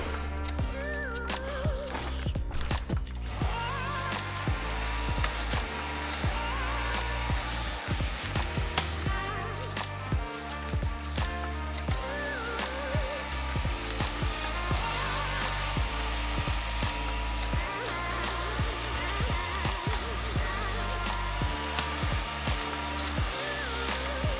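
A carpet extractor running steadily while shampooing carpet, a dense continuous whirring drone that fills the whole stretch at a constant level.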